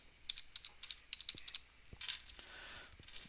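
Rapid clicking of keys on a computer keyboard, in short irregular bursts with brief pauses, fairly quiet and close.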